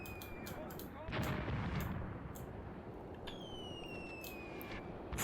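Distant mortar and artillery fire in the WWII tactical battle game Graviteam Tactics, a series of dull thuds and cracks over a steady rumbling battlefield bed, with a high whistling tone drifting in partway through.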